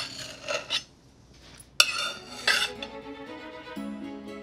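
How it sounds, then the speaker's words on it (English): A long, sharp knife cuts through a chocolate ricotta cheesecake and clinks on the plate, giving a few soft scrapes and one sharp metallic tap, close and quiet, with no talk. "Let's cut a nice slice, just like that. A nice, sharp, long knife will do."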